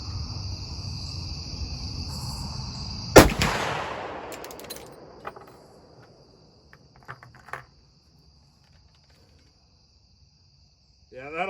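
A single loud blackpowder shot from a Marlin 1895G guide gun in .45/70 booms nearby and rolls off into a long fading echo, over steady outdoor cricket chirping, with a few faint knocks afterward.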